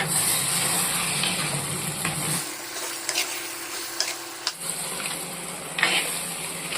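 Vegetables, including chopped drumstick, sizzle and hiss in a hot pan while a spoon stirs and scrapes them around, with a brief quieter pause midway.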